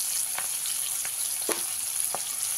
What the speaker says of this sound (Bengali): দিয়ে পেঁয়াজটাকে একটু হালকা ভাজা ভাজা করে নেব।